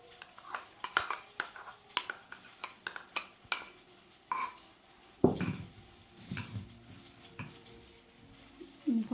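A spoon clinks and scrapes against a bowl while ketchup and garlic sauce are stirred together, a series of short close taps followed by softer wet smearing sounds, quiet and without talk.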